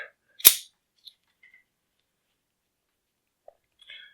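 The bolt of a Tec-9 pistol pulled back: one sharp, close metallic clack, then a few tiny faint clicks and near silence, without speech.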